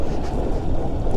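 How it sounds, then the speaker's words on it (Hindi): Cold wind rushes past during a motorbike ride on a mountain road after rain, a loud, steady, low roar buffeting the microphone throughout. "बारिश के बाद ना बहुत ज़्यादा ठंडी हवा चल रही है अब तो"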